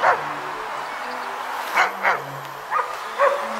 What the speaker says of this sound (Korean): 짖지 마라.